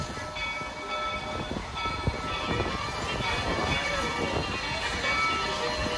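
Steam train in Georgetown, Colorado, running with a steady rumble and rattle of rolling cars, close and continuous, with faint voices underneath.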